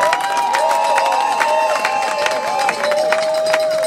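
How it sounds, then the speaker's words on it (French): At a university diploma ceremony, the crowd applauds graduating students with steady clapping and scattered cheers, while sustained tonal sounds like music or whistling ring over the noise. "On peut applaudir ces étudiants."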